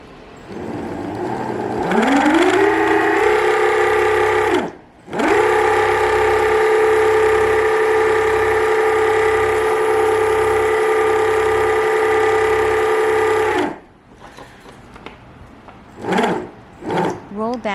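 An electric motor driven by a VESC controller during a throttle test whirs up and holds a steady loud hum, cuts briefly, spins again for about eight seconds, then winds down, followed by short bursts.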